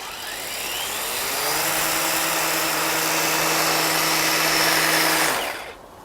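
A Makita 18 volt ground trimmer power head spins up to top speed with a steady high motor whine and a broad whirring hiss, holding for several seconds before cutting off and winding down.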